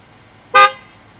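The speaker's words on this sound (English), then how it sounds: "I honked the horn" A single short horn toot from a 2021 Lexus RC F, loud and close, standing out sharply against quiet background noise.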